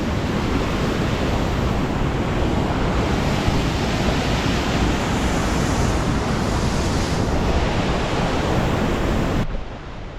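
Wapama Falls in Hetch Hetchy, Yosemite, runs with a strong flow, a loud, steady, broadband roar of rushing water heard close by and unbroken throughout.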